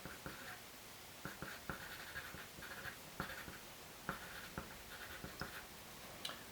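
Pen or pencil scratching across paper while a geometric construction is labeled, a run of short, quiet strokes and taps spaced irregularly, close by in a quiet room with no talking.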